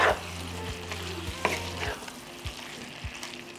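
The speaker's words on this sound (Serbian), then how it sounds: "Pa ću ovo sada promešati." A spoon stirs a pan of food seasoned with salt, pepper and crushed chili flakes, giving about half a dozen evenly spaced scraping strokes over a low frying sizzle, with no talking.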